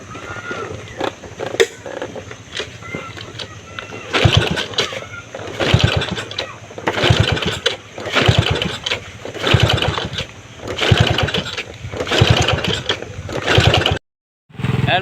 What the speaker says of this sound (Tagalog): Pumandar din yung motor namin.